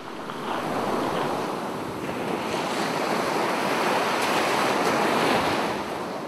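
Ocean waves wash and surge steadily around a fishing trawler heading out to sea, a dense continuous roar of surf mixed with wind buffeting the microphone, with no voices present.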